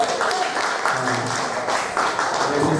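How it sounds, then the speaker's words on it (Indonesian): Teachers applauding during a motivational in-house training session at a junior high school, a steady wash of clapping throughout with a voice faintly underneath. "Boleh tepuk tangan buat kita semua?"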